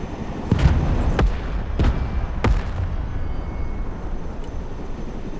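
Gunner firing kinetic ammunition in the military strategy game Broken Arrow, with four sharp booming shots at irregular intervals over a steady low rumble of battlefield ambience.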